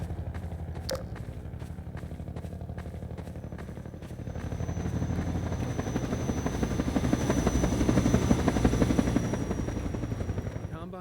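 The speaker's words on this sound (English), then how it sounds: "here is where we fully introduce the main boss of the Canals chapter, the Combine Attack helicopter" The Combine attack helicopter from Half-Life 2 gives off a steady rotor chop and a droning engine whine. The sound holds loud and constant throughout, swelling a little in the middle, and nobody speaks over it.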